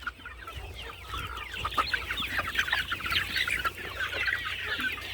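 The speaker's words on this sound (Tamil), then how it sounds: "இங்கே பாருங்கள் மொட்டை கோழி குஞ்சு இருக்குது" Naked-neck country chicks on an organic farm peep and cheep in rapid, overlapping high chirps at moderate volume, with soft clucking underneath.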